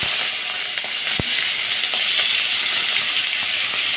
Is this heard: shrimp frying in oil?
yes